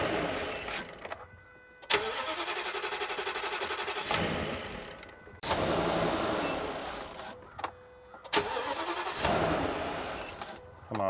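Sunstar RV engine cranking over and over in several long bursts separated by brief pauses, failing to catch, loud and close with a whirring starter rhythm.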